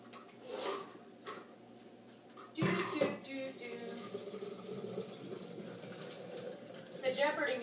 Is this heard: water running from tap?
yes